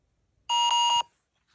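A Line Scale 3 force meter sounds its alarm: a loud, electronic beep lasting about half a second, pulsing three times in quick succession, then silence.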